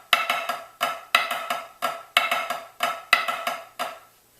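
A snare drum plays the second grouping of the Flam Drag Grid, a steady triplet pattern of crisp flams and drags with recurring accents, close and alone.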